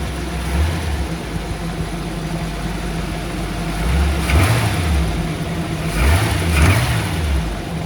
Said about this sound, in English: There is your totally rebuilt 312 Y-block engine. This engine starts and runs awesome.